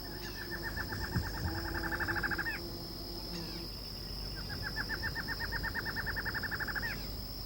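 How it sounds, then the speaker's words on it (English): A barred antshrike calls near a great fig tree, giving accelerating series of rapid chattering notes twice in succession, set over a constant high insect whine and a soft forest background. "The barred ant shrike is a regular visitor in the mornings when the insects are most active."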